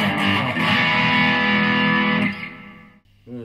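An Epiphone ES-335 electric guitar on its rear pickup through driven distortion rings out as a sustained, thick chord for a couple of seconds, then decays and cuts off before a short new attack at the end.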